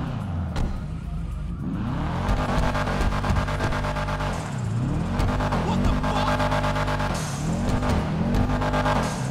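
A tuned Subaru 22B-style car in GTA Online, its loud engine revving up and down through gear changes in repeated sweeping climbs and drops, with tire noise.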